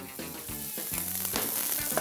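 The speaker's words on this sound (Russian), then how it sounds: "Пока обжаривается лук" Red onion rings frying in a hot pan, sizzling steadily at close range, with a few soft stirring scrapes and clicks and no one speaking.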